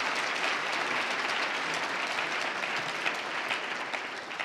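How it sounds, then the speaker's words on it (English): Conference audience applauding at a health event opening session, dense even clapping sustained throughout and slowly tapering near the end. "Let's give a great big round of applause."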